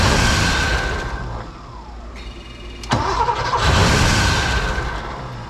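An old, rare Porsche engine being cranked over by its starter, a loud, close mechanical churning that drops off briefly and then returns, whirring under a steady noisy rumble.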